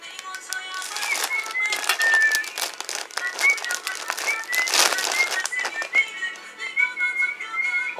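A plastic bag from a Bandai Action Base 1 gray model kit crinkles and rustles nearby as it is opened, with steady crackling and small sharp squeaks throughout.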